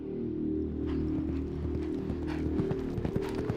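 Steady clip-clop of hooves from a large 700-kilo horse, rhythmic and fairly close, over a low rumbling background.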